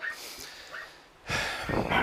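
A dog inside a house during a police domestic-violence call gives a few faint, distant yips and barks, followed by louder, muffled rustling and handling noise close by.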